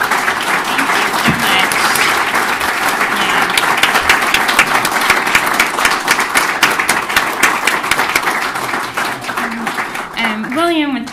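Audience applause for a speaker at a public talk, dense clapping with some sharp individual claps standing out, and a voice briefly speaking near the end.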